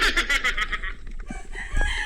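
A rooster crows loudly up close, a drawn-out call followed by a quieter stretch of farmyard clucking and rustling.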